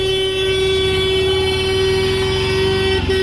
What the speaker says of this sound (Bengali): ওহ, টোটোটা যা হর্ন দিচ্ছে যেন মনে হচ্ছে রাজধানী এক্সপ্রেস যাচ্ছে।